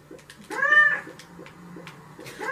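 A cat character in the Crossy Road video game gives a clear, drawn-out meow, followed by soft rhythmic game sounds and faint blips in the background.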